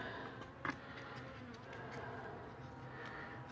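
Honey bees buzzing softly inside an opened nuc hive in February, a steady low drone of many wings heard close with no talking.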